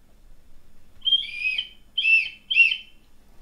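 Three short, shrill keychain whistle blasts near the mic, the first drawn out and the last two quick in succession, with quiet pauses between.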